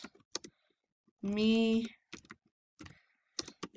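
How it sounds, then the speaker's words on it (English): Typing on a computer keyboard, short clustered clicks in bursts between pauses, with a brief vocal sound and some talking in between. "is it typing?"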